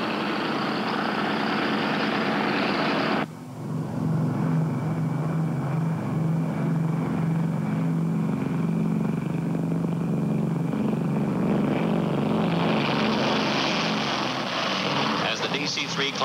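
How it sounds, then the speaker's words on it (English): A DC-3 propeller airliner taking off from a runway, with a steady loud engine drone and low rumble that swells and thickens partway through, the broadband roar building toward the end. "The tower then gave the DC-3 pilot permission to take off."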